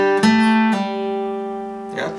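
Acoustic guitar rings out a short arpeggio with a pull-off from a song, sustained strings decaying after a few plucked notes, heard close and alone.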